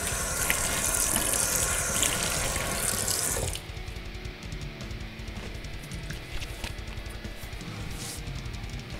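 A tap runs steadily into a sink for a rinse after a wet shave, a loud rushing gush that drops to a softer, thinner stream partway through and keeps flowing to the end.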